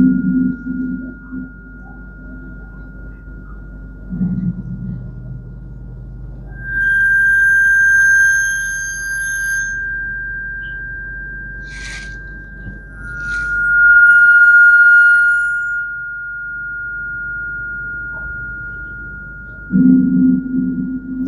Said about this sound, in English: This is called Calafatofono Dos. So these are the sounds that he's making with this instrument that he developed.